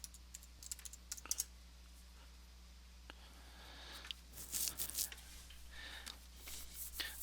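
Someone types on a computer keyboard, scattered soft key clicks and taps, then a denser run of faster keystrokes near the end, quiet against a low steady hum.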